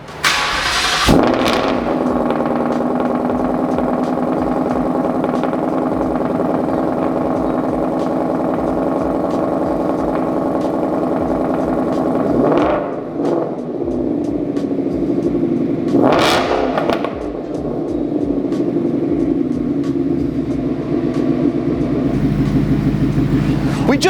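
A Mustang giveaway car fitted with Kooks 1 7/8 inch stainless headers starts up and settles into a loud, rumbling idle, broken by two sharp revs, close to the microphone.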